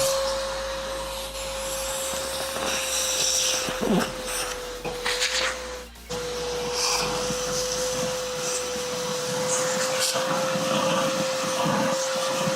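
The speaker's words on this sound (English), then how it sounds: "Sorry, running the vacuum cleaner." A vacuum cleaner runs steadily with a constant high whine, its tone shifting briefly as it bumps and moves across surfaces.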